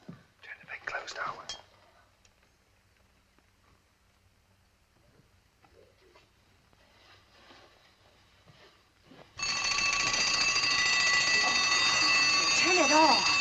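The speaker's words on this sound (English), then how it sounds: "I'll set the alarm." An alarm clock rings loud and continuous in a bedroom in a 1940s film, a sudden harsh metallic bell that starts after quiet whispering and keeps going to the end.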